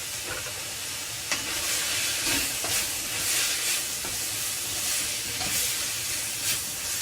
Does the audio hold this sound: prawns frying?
yes